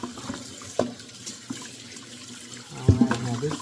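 Tap water runs into a sink as neckbones are rinsed for smothered neckbones, a steady close splash with a few sharper knocks and a louder burst near the end.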